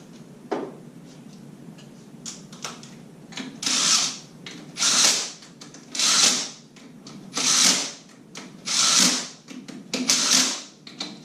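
Factory clutch bolts on a motorcycle being run in with a power driver, six or so short whirring bursts in an even rhythm, separated by light clicks and handling noise, close and clear.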